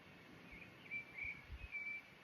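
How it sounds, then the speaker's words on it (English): Birds singing in quiet open countryside, their soft high whistles and short chirps coming in a few scattered phrases from some distance over a low outdoor background. "Even the birds sound happier compared to in the city."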